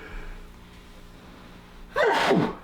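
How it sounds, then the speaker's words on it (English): One loud sneeze bursts out near the end after a quiet intake of breath, close and sharp. "I'm gonna sneeze again."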